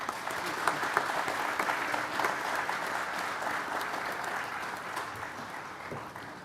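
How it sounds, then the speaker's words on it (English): Audience applause at a school graduation ceremony, a steady, dense clapping crowd sustained throughout, fairly even in loudness with no speech over it. "Please join me in giving him a warm round of applause."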